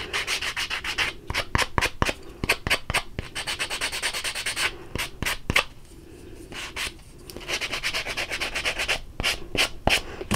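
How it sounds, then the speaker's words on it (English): A sanding block rubs the edges of scrapbooking paper in quick rasping strokes, close and dry, coming in bursts separated by brief pauses. "I'm going to sand the edges a little."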